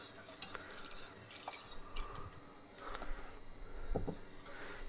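A spoon stirs milk into thickening white sauce in a pan, faint scraping and soft clinks against the pan at close range, quiet and continuous with occasional light taps.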